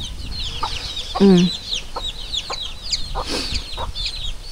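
Chickens and chicks clucking and cheeping close by in a farmyard. Short clucks and a louder squawk stand out over a busy layer of thin peeping chirps, and there is no talking.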